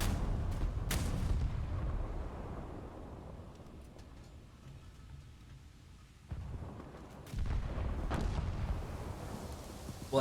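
Ship cannons firing in a naval video game, several deep heavy booms spaced a few seconds apart with rumbling tails between them.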